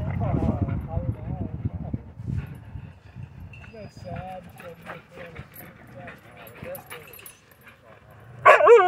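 A German Shepherd and a Pitbull mix clash at a dog park, with a burst of close, rough barking and growling up front, then scattered yips and whimpers, and a sharp loud outburst near the end.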